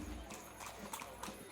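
Horses' hooves clip-clop steadily as a tabletop game sound effect, a quiet rhythmic trot sitting under a broad background bed, with talk over it.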